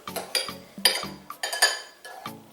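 Knife chopping a ripe avocado into rough chunks on a board for party guacamole, a string of sharp, uneven taps and knocks close by, about eight strikes, no talking.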